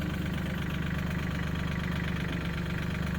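A vehicle engine in low gear idles steadily, kept running to hold hydraulic pressure; a constant close, loud mechanical drone with a low rumble and no pauses or talk.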